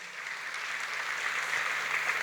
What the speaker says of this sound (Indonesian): ini kasih tepuk tangan dulu